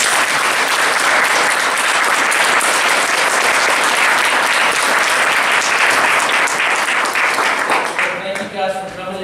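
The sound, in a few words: audience applauding panelists at symposium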